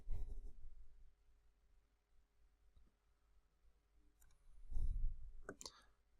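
A few faint, sharp computer mouse clicks, spaced apart, with low thumps and soft background noise around them.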